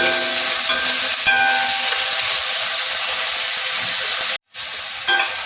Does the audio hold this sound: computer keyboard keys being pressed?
no